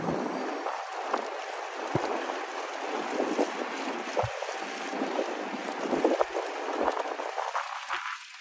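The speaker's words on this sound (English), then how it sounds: "It's windy up here." Wind gusting across an exposed golf course in winter, a broad blustery rush with buffeting bursts against the microphone, steady and fairly close throughout.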